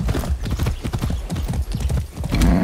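Horse hooves clip-clop in a steady, close walking rhythm in Far Cry 6 gameplay, with a brief snort toward the end.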